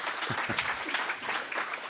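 An audience applauds a keynote speaker at a security conference, with sustained clapping and a couple of brief voice sounds near the start.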